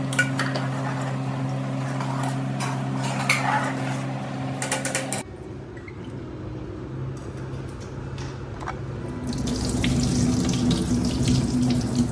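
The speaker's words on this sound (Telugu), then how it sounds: "చూడండి వాటర్ అయితే అందులో పోస్తుంది." Tap water runs loudly into a pot in a home kitchen while mutton dum biryani is being prepared, a steady rush that dips midway and then returns fuller and brighter.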